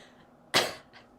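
A single sharp, breathy cough bursts out close by, followed by a fainter short exhale against a quiet background.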